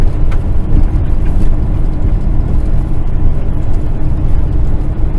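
A farm truck drives along a rural road through agricultural country, its engine and tyre rumble a steady, loud low drone that holds throughout without a break.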